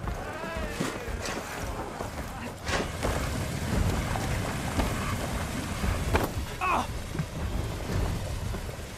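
Thunder rumbles and rain pours steadily in the video game Horizon Forbidden West, a dense, continuous downpour with rolling, booming thunder throughout and no speech.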